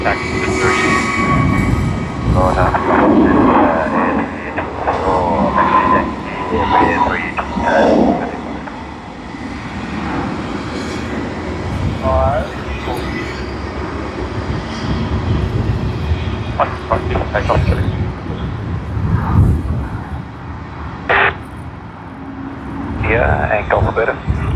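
Aircraft taxiing at Sydney Airport on a Friday evening, a steady engine rumble with rising and falling roar over the full stretch, mixed with radio talk between controllers and pilots.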